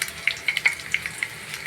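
Cumin and mustard seeds go into hot oil for a raw mango rasam, making a faint sizzle broken by small scattered pops and crackles.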